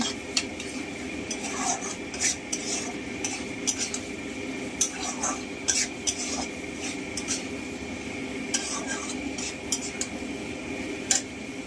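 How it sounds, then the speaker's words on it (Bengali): A spice paste for a snakehead fish and red radish curry is stirred and sautéed in oil in a pan, with a steady soft scraping, faint sizzle and occasional sharp clinks of a utensil against metal. "ভালো করে কষানো হয়ে গেলে, তেল ছেড়ে এলে মশলাটা ভালো করে কষিয়ে নেব।"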